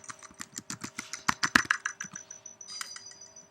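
Rapid, close typing on a computer keyboard: a dense run of crisp key clicks that thins out toward the end, over a steady electronic hum, with no speech.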